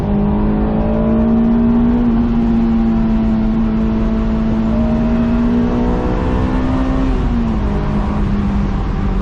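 Honda S2000 AP2 engine of a 2007 car revs steadily with a rising, whirring tone that climbs and dips slightly, a loud continuous note heard close and without speech.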